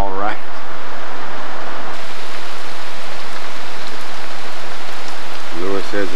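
Heavy rain falls after fifteen dry days, a steady, dense hiss of close drops on surfaces that continues throughout, with brief voices at the start and end.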